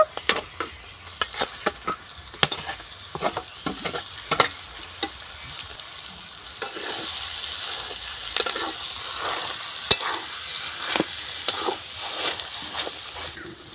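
An egg cutlet mixture of mashed potato fries in a pan while being stirred, with a soft sizzle under repeated scraping and clattering strokes, growing a little denser in the second half.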